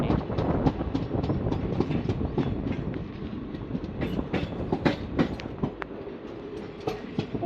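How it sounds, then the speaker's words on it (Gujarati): A long train running over tracks on a route in Gujarat, with a continuous rumbling roll, rhythmic wheel clatter and sharp clicks from rail joints, loud and close, no talking. "જો ટ્રેન કવડી લાંબી નીકળી રહી"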